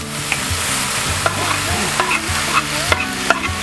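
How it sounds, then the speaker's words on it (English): Vegetables sizzle and fry in a hot pan, with occasional clinks and scrapes of stirring, close and steady. "we're just going to throw it in the pan and fry it off"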